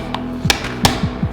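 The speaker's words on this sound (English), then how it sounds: "now I'll need hammer and chisel to remove some more hard parts" Hammer striking a chisel to chip off hard residue, a few sharp metallic knocks in an uneven rhythm over a short burst, close and fairly loud against a low steady hum.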